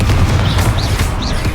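A Confringo spell explodes in Hogwarts Legacy gameplay, a dense rumbling blast that fills the whole short moment with heavy low booms and crackling layered over game sound.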